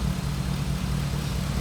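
A rebuilt SleeperGTP car engine idles steadily, a low, even rumble holding constant throughout with no voices.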